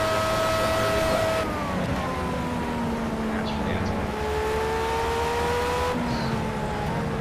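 A Formula A race car in Project CARS laps the Nurburgring, its engine a loud, continuous whine that climbs in pitch and drops at each gear change, steady throughout.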